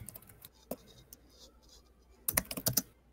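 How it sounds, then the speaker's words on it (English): Someone types on a computer keyboard while playing Roblox, a few scattered keystrokes at first and then a quick, loud burst of clattering keys close to the microphone. "What you typing over there?"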